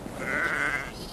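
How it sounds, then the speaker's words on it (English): A single drawn-out sheep bleat carries over a windy, noisy outdoor field while a border collie rounds up the flock, at moderate distance. "What Jess is doing now is she's rounding up the sheep to bring to me"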